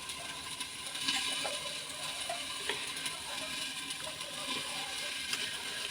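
Vegetable curry being stirred and fried in a pan, with a steady background sizzle and scattered scraping and clinking of a spoon against the pan throughout, close and fairly quiet.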